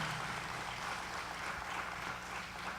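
A church congregation applauding the Lord at the end of a sermon, a dense, even wash of clapping that stays steady and fairly loud for the whole stretch without voices.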